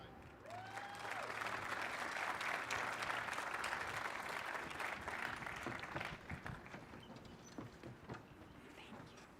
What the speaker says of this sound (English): Let's give a huge round of applause to the phenomenal dance troupe